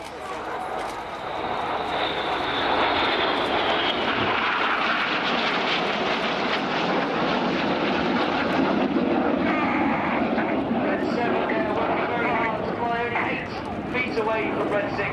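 Red Arrows display jets sweep past with a broad, loud roaring rush that swells and holds, the pitch sliding downward as they pass, while a commentator speaks over the noise.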